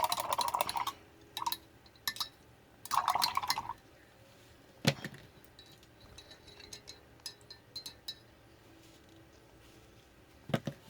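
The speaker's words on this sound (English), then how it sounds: "let me rinse my brush" A paintbrush is rinsed in a water cup during acrylic painting for an art journal, giving short splashy swishes and clinks in a few bursts, with quieter tapping and small handling noises between them.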